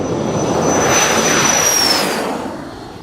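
A Piper PA-60 Aerostar light twin converted to jet engines roars loudly at takeoff thrust, a close, broad rush with a high turbine whine that slowly falls in pitch before the noise eases off.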